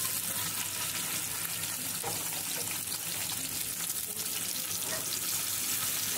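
Chopped onion frying in a pan, a dense, even sizzle holding steady throughout at close range, with faint stirring.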